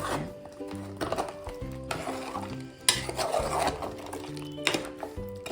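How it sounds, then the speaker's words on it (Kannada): Goat head curry masala being stirred in a pot, with scraping and clattering of a spoon against metal in irregular bursts, a faint sizzle beneath and a steady tonal hum in the background. "ಎಲ್ಲ ಮಿಕ್ಸ್ ಮಾಡ್ಕೊಳ್ಳೋಣ."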